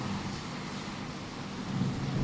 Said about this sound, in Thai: ฝนตกฟ้าร้อง